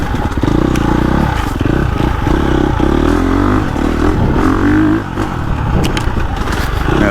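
A KTM 350 four-stroke dirt bike engine revs continuously at close range, loud and steady with rising and falling pitch, a brief dip near the end and faint clatter beneath.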